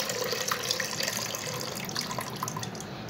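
Whey-like buttermilk liquid left from washing butter poured into a pot, a continuous splashing stream of liquid, close and steady with no talk.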